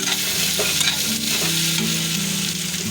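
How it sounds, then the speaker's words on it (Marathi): Leftover rice being mixed with egg for spicy anda rice in a hot pan, a dense continuous sizzle with steady scraping stir strokes, loud and close. "हे भात टाकून घ्यायचं छान असं मिक्स करायचं"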